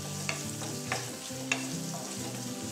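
Sliced onion sautés slowly over a low gas flame for poha, a soft steady sizzle punctuated by three evenly spaced spatula scrapes against the pan, close and alone.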